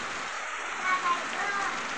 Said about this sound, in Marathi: घ्या काळजी कारण पाऊस चालू आहे आमच्याकडं